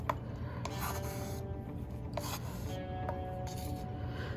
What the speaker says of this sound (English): Scrape out all my color.